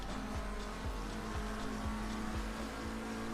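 A GT3 race car engine in Assetto Corsa Competizione, driven with a Fanatec McLaren GT3 wheel, drones steadily with a rapid, regular pulse at a constant pitch, fairly quiet and with no talking.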